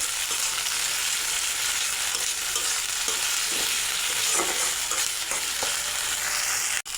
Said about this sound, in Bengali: এই মশলাটা আমি ভালো করে একটু কষিয়ে নেব।